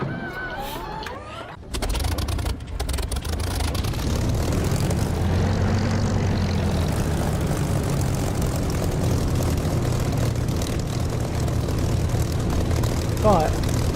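In the DCS flight simulator, an aircraft's propeller engine throttles up from quiet into a loud, steady droning hum that swells slightly and holds close and continuous, with a short spell of softer engine sound at the start.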